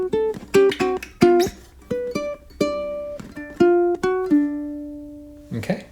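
A solo ukulele plays a blues lick, a pickup leading into the first and second measures: a string of plucked notes and short chord strums in a lively rhythm, close and clear, ending on a sustained note before a brief scuffle.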